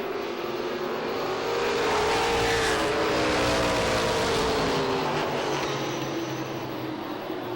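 Pro stock race cars racing at Lee USA Speedway in 1993: a continuous loud roar of several engines, with revs rising and falling as the cars pass and a brief swell in the middle.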